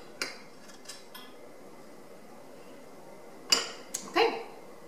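A metal spoon scrapes and clinks against a glass jar while lifting the film off raspberries, with a few sharp clinks early on and a cluster of louder scrapes near the end, close and otherwise quiet.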